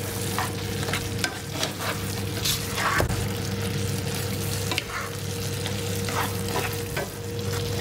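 Green beans and snow peas sizzle steadily in a hot pan while being stirred, a close continuous frying hiss with soft scraping and small clicks of the utensil against the pan.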